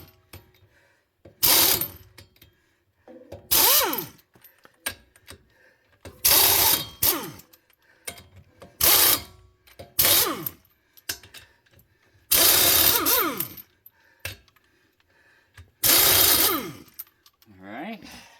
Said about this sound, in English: I'm going to grab the impact wrench.